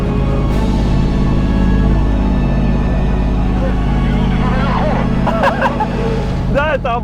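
A Bentley Ultratank tracked vehicle with a 600-horsepower engine drives through sand, a loud steady engine drone that holds throughout, with excited voices talking over it.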